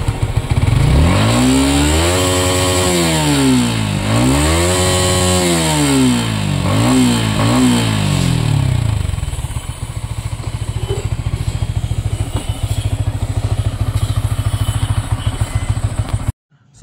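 A motorcycle engine starts and is revved hard in repeated rising and falling surges to force out water after washing, then settles into a loud, steady idle clatter close by.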